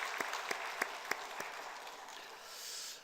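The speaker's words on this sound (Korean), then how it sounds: "박수로 축복하겠습니다." Congregation applause in a church after a choir hymn, faint and brief, a few distinct claps followed by softer scattered clapping that fades.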